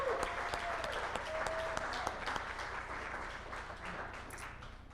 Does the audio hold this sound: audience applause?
yes